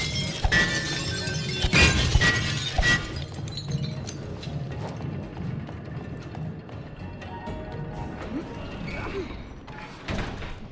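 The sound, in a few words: glass bottles smashing, It Takes Two video game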